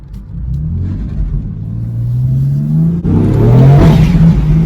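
A BMW F82 M4 with a VRSF aftermarket air intake revs up with a deep rumble, climbing in pitch as it accelerates, then shifts and pulls harder, loud and close.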